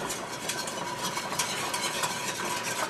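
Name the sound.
stirring cornstarch slurry into simmering gravy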